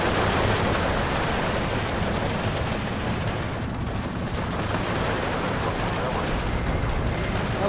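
Dense, continuous gunfire and explosions from the World War II strategy game Steel Division 2, a loud, unbroken roar of shots and bomb blasts with no pauses.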